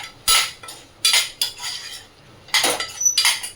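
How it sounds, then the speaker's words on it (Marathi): A metal spoon stirs turmeric into a cooking pot, with close scraping sweeps and sharp clinks against the pot in irregular bursts, and no talk. "थोडी हळद, ढवळून घेते."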